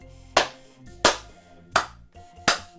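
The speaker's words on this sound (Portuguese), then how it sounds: "Tem um aplauso lá atrás. Se você ouve, você vê que é uma pessoa sozinha." One lone person claps in the background behind a speech, four sharp, evenly spaced claps about two-thirds of a second apart, with a faint voice and hum beneath.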